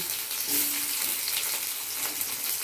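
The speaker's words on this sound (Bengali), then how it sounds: "এবার টুকরো করে রাখা ক্যাপসিকামগুলো আমি এবার ভাজতে দিচ্ছি" Chopped capsicum fries in hot oil in a pan, making a loud, dense, continuous sizzle close up, with a faint brief tone early on.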